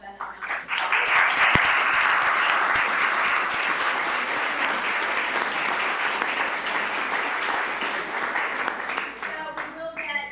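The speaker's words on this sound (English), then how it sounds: "So I'd really like to give Ben a round of applause." An audience at a city branding presentation in New Castle gives a full round of applause for a presenter, a dense sustained clapping that swells quickly, holds for several seconds, then thins out at the end.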